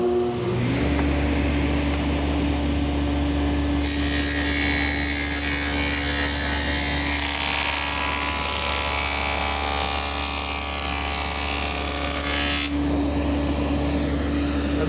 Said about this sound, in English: So I've set up my table saw with a 1/2-inch dado head cutter